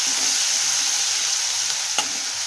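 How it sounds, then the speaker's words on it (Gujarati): Spice paste with asafoetida sautés in hot oil for a drumstick kadhi, giving a steady, close hiss of sizzling with one sharp clink of a utensil near the end. No voices. "આ જે આપણે પેસ્ટ કરી છે એનો વઘાર કરી દેવાનો છે. બધું સરસ રીતે સાતળી લેવાનું."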